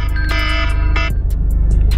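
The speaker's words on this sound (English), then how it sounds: "Don't worry about the alarm" A repeating electronic beeping alarm tone sounds in short bursts over a steady low rumble of an idling vehicle, fading into faint chirps.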